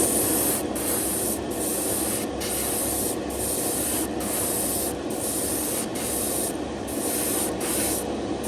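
Primer spray-painted onto parts of a Tamiya Yamaha YZF-R1 scale model, a loud steady hiss from the aerosol with short regular breaks between bursts, close and alone.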